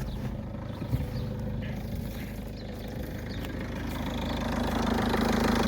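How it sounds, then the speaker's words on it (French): A Peugeot 207 1.6 HDi diesel engine idles steadily after a long period unused, with a close, continuous low rumble and a light knocking clatter that grows slightly louder toward the end, with no voices. "elle tourne super bien au ralenti pour une voiture qui a pas tourné depuis très longtemps"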